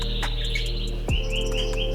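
A Yorkshire canary in a breeding cage chirps in quick bright tweets and short trills over a steady low background hum. A soft thump sounds midway.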